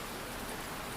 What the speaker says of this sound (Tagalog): ang lakas ng ulan sa amin